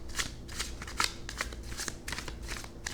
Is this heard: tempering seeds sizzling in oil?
no